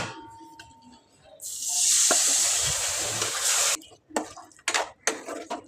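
Chicken pieces hit a hot pan of whole spices and masala with a sudden loud sizzle that holds for about two seconds, followed by clattering stirs and utensil knocks, alone without talk.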